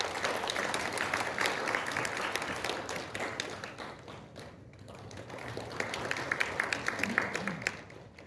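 A crowd at a formal Korean national founding anniversary ceremony and awards event applauds steadily, the clapping heard from a distance in a large hall, easing slightly midway and then swelling again.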